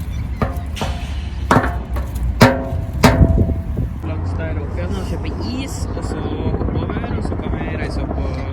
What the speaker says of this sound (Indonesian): helikopter itu tadi dari sana terus ke sini, terus ke sini, balik lagi ke sana